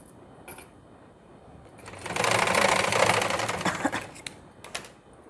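A sewing machine runs a straight stitch along a folded tuck on a blouse, a rapid mechanical whirr rising for about two seconds then slowing into a few short bursts, close and alone.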